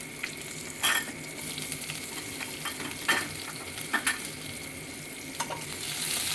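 Chopped onion frying in a pan for a prawn and bottle gourd curry, a steady close sizzle with a few sharp clinks of a spatula against the pan, no voices.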